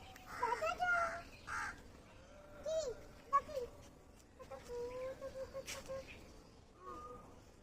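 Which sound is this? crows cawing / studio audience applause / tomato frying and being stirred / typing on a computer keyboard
crows cawing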